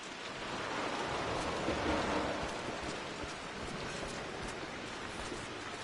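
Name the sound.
rain falling in Rise of the Tomb Raider video game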